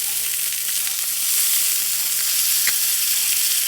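Pork chops browning in a hot pan give a steady, loud hiss of frying fat, a continuous crackling sizzle with one brief pop near the end and no voices.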